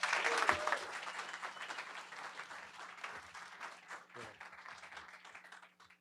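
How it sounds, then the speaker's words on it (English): Audience applause at a Go programming meetup, a dense wash of many hands clapping that starts loud and gradually thins out, moderately distant, with no talk over it. "So round of applause, please."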